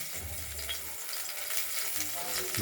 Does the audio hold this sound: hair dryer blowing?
no